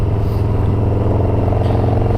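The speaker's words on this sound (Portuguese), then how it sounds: "tô pilotando agora o motor 103, mas já com comando" A Harley-Davidson Dyna motorcycle with a 103 engine runs while being ridden, a loud, steady low throbbing rumble with continuous engine pulse.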